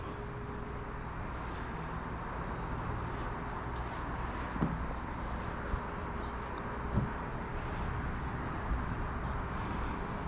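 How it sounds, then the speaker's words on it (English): A single cricket chirps steadily in a continuous high trill during the daytime, fairly close, with a few faint knocks in the background. "And that cricket's pretty loud."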